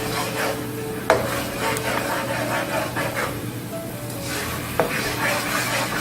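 Firecracker wing sauce simmering and thickening in a pan, a steady soft bubbling sizzle with occasional stirring scrapes and two sharp clinks of a utensil against the pan.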